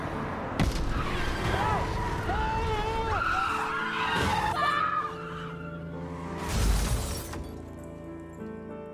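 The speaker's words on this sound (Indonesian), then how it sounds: "ada sebuah mobil besar yang mengalami kebocoran pada ban hingga kehilangan kendali dan mengakibatkan kecelakaan beruntun" A large car loses control after a tire blowout and triggers a chain-reaction pileup in a film, with tonal tire screeches followed by a loud crash and breaking debris near the end. The sound mixes into a dense film soundtrack.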